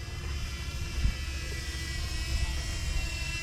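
A drone flies over a tuk-tuk campsite in Sitio Tangal, Palauig, Zambales, giving off a steady, moderately near buzzing propeller whine with no talking.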